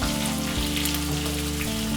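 Steady, dense sizzle of chopped onion frying in hot oil with curry leaves for beetroot rice, loud and close with a constant crackling hiss and faint low hum underneath.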